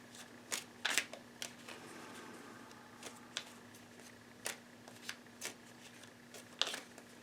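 Quiet, intermittent riffle-and-snap bursts of tarot cards being shuffled, irregular clusters over a faint steady hum, with no talking.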